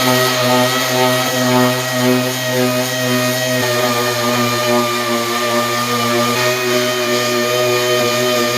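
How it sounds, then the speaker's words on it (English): A DA sander works glazing putty on a plastic car bumper, a steady, loud, close whir with a constant motor hum and harmonic whine that holds unbroken throughout, no voices. "I just ran over this with this DA sander"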